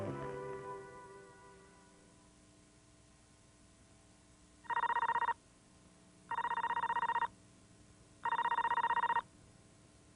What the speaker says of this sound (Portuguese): Esta é uma campainha de telefone que usa um alto-falante de pequeno tamanho.